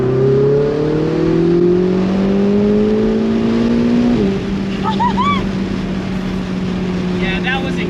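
A Lamborghini sports car engine revs hard and climbs in pitch, then drops at a gear shift and settles into a steady drone, loud and close, with faint squeaks above it.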